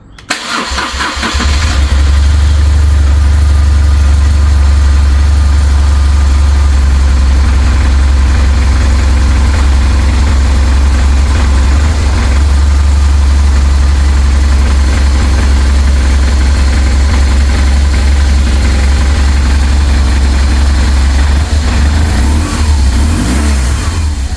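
A 2008 BMW R1200 GS motorcycle engine starts and settles into a steady, loud idle in neutral that runs throughout, close to the listener.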